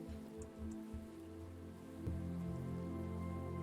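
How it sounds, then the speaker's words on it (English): Steady rain patters in the video game himno, a soft, continuous hiss of drops that grows slightly louder partway through, alone with no talk. "rain sounds and me talking low level like this"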